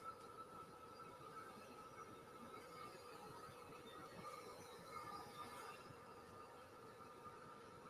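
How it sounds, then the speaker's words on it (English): A model train runs backwards along its track with a soft, continuous rolling rumble and faint wheel squeal, quiet and steady throughout with no voices. "So hopefully going backwards, she won't derail."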